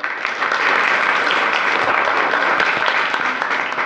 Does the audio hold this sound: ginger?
no